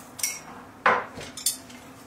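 A utensil clinks against a bowl while salted chopped cabbage is stirred, giving three separate bright metallic taps spaced about half a second apart, close and clear with no voices.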